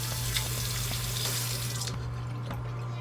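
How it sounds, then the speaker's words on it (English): Water runs steadily from a bathroom tap into a sink during shaving with a Gillette Mach 3 razor, a loud continuous splashing flow that thins out near the end. "it's kind of annoying putting the water on and off"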